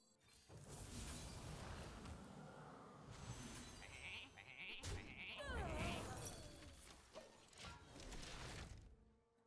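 Sheep bleats from a Hearthstone match sound in short bursts at mid-clip, over game music and effects.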